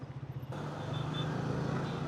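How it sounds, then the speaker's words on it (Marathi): Highway traffic on a busy road near Pune during Ganpati Visarjan, heard from a Triumph Speed T4 motorcycle: a steady engine drone and road rumble, with vehicles passing close and loud. "हायवेला सुद्धा चांगली ट्रॅफिक आहे आज यार"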